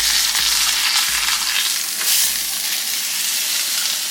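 London broil steak tips sear in a hot pan with a steady, loud sizzle and crackle that holds throughout without pause, with no talk over it.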